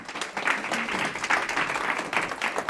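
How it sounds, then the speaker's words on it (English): An audience at a networking book event applauds as guests are called up on stage, a steady patter of many hands clapping at moderate volume throughout. "And everyone give them a round of applause."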